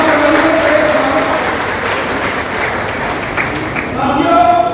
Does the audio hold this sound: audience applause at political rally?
yes